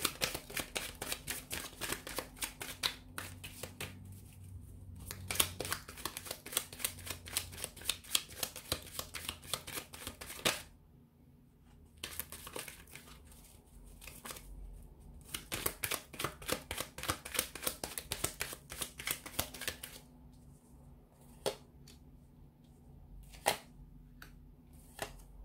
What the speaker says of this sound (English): So we'll go ahead and give the cards a shuffle